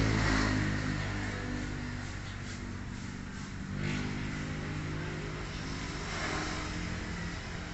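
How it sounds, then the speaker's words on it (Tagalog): A Mitsubishi Adventure power window motor with a malfunction runs while being tested, giving a continuous whirring drone with slight rises in pitch, close and steady. "Kasi reversible naman ito ang motor ng isang power window."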